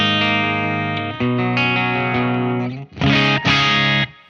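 Electric guitar playing arpeggiated chords through a Victory VC35 The Copper amplifier with reverb rolled off, loud sustained ringing notes shifting through several chord changes, with no talking.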